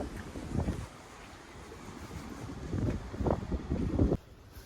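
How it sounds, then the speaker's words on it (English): Wind gusts buffet the microphone in low, rumbling swells that rise and fall, loudest toward the end before cutting off abruptly. "it's definitely windy"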